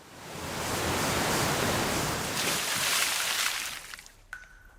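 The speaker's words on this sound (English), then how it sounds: "water from the waterfall falls on top of them" Dense, roaring rush of water pouring down from a waterfall, a broad steady hiss that swells and then fades out over a few seconds, heard alone.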